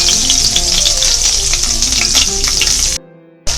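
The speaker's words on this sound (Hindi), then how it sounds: "यहाँ हम लहसुन डालेंगे और सौते करेंगे।" Garlic sizzles loudly in a hot pan for a chicken chow mein, a dense continuous frying hiss with stirring scrapes that cuts out abruptly near the end before the sizzle returns.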